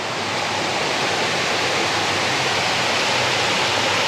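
Puray Waterfalls roars with dense, steady rushing water, loud and close, an unbroken wash of white noise with no voices over it.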